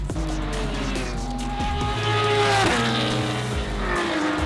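Race car at full throttle on a track, the engine loud and close with shifting harmonics as it revs and changes gear, and a brief tire squeal partway through.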